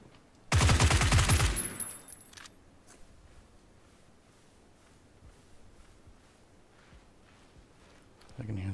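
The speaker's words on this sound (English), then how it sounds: "I can hear the shots way over on my left." A single loud burst of automatic gunfire in PUBG lasts about a second, then low ambient hiss follows with faint scattered pops far off.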